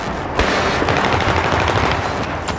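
Video game gunshots: a loud, fast burst of automatic fire that rattles on continuously for about two seconds with no voices heard.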